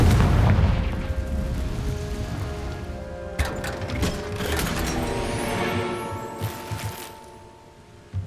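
Spell blast of the Confringo fire spell in the Hogwarts Legacy video game, a rumbling low burst that opens the clip and decays, followed by crackling debris impacts and a few sharp thuds, with no voices.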